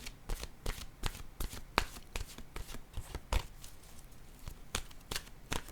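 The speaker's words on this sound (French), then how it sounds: "Attendez, je vais piger une carte de mon oracle de l'âme intuitive." Oracle cards are shuffled and drawn by hand in a series of quick, close riffling flicks and soft slaps, irregular bursts with short pauses between them and no talk.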